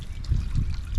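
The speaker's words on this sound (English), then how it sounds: "And then we could just rinse this gently." Water trickles and splashes softly in short, uneven bursts as something is rinsed gently by hand, close by and fairly quiet.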